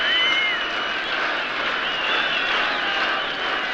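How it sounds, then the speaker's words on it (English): A record crowd applauds Don Bradman in one dense, sustained roar of clapping that carries on unbroken from start to finish. "He was applauded from the moment he appeared."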